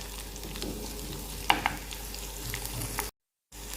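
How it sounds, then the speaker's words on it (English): Onions, garlic and ginger fry and sizzle steadily in a pan while being stirred, with a couple of sharp utensil clinks partway through and a brief dropout near the end. "Fry till the onions are translucent and the garlic and ginger also have"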